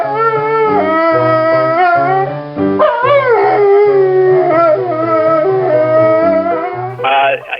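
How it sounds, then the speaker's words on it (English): A terrier howls in long, wavering, tuneful tones along with boogie-woogie piano, the voice rising and falling with the melody, loud and close. "And Duke would actually sing pretty well, actually, to my mother playing Boogie Woogie on the piano."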